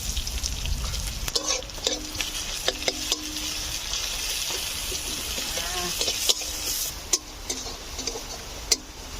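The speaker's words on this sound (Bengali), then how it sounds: "আমার এদিকে পেঁয়াজ আর রসুন ভাজা হয়ে গেছে।" Onion and garlic fry in hot oil with a constant sizzling hiss, punctuated by repeated scraping and clicking strokes of a spatula stirring the pan.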